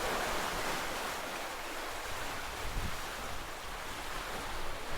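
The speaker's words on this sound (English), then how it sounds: "sure hear the water going through there" Rushing water roars in a steady broadband wash from the rapids near Niagara Falls by Goat Island, with some wind buffeting the microphone.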